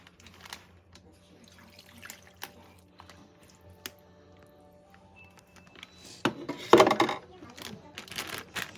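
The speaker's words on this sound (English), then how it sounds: "take your bag, your marinade, pour it in there." Teriyaki marinade is poured into a bag of deer meat for jerky: a splashing, gurgling pour that starts after a quiet stretch and grows louder over the last few seconds.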